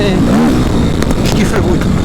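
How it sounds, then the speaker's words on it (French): A brand-new Suzuki RM-Z 250 motocross bike engine runs close by, a steady throaty rumble with slight wavering in pitch as it idles and revs gently. "La moto elle ronronne, elle est toute nouvelle"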